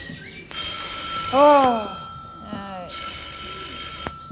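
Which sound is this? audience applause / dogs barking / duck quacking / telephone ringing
telephone ringing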